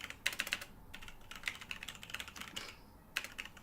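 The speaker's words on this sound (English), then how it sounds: "I'm typing in our stream to the thing so people will know that we're doing it." Quiet typing on a computer keyboard, clusters of light, quick key clicks coming in uneven bursts with short pauses between, close but soft, with no voices.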